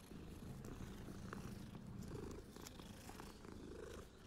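A cat in Hogwarts Legacy purrs softly and continuously in a close, rumbling rhythm of gentle pulses, quiet and alone with no talking.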